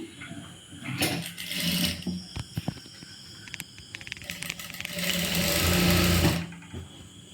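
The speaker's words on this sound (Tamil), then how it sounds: "நான் இப்படியே வச்சு இப்படி தைச்சிக்கிறேன்." A sewing machine stitches a blouse sleeve onto the body piece in two sustained whirring runs, separated by lighter clicks and fabric handling, all heard up close.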